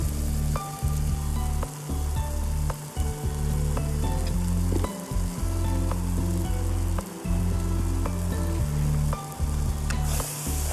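A sundakkai kuzhambu base, made with fresh turkey berries, sautés in a pan as chili powder goes in, giving a loud, steady sizzle. Crackling pops run through it, and brief dips come as it is stirred.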